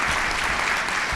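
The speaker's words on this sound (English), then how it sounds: "a big round of applause" A short burst of dense, steady applause from an audience at a lecture, heard alone with no speech.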